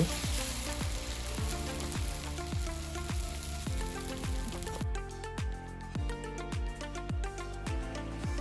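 Pesarattu, a green gram batter crepe, sizzles steadily in an oiled hot pan, a continuous close frying hiss running under background music.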